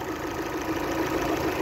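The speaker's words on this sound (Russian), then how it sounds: "Завели двигатель." An Opel Astra with a Z18XER engine idles just after starting, a steady close mechanical drone with a faint rapid ticking knock running through it.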